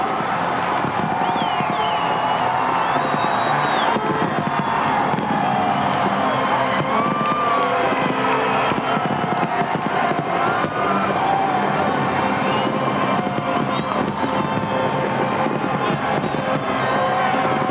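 Crowd at the Washington millennium celebration, a dense, continuous roar of cheering and shouting, loud and steady from start to finish, with whistles and scattered higher voices rising out of the mass.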